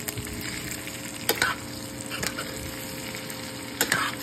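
Binagoongan is stirred and fried in a pan. It sizzles steadily, and a spatula scrapes and knocks against the pan a few times.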